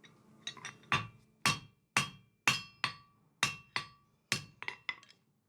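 A hot steel bar is hammer forged on an anvil with about a dozen sharp, ringing metallic blows at a steady rhythm, some with quick lighter taps between them, close by and with no talking.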